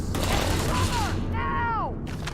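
A fun little gun fires in the space game Starfield, a short burst of mechanical shots with whining, descending sci-fi tones trailing off, set against a steady ambient game bed.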